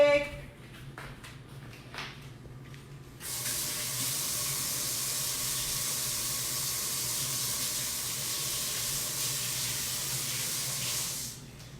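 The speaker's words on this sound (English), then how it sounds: "Let me wash my hands real quick." After a few light clatters, a kitchen tap gushes on and runs steadily as hands are washed beneath it, a continuous close hiss of water that cuts off at the end.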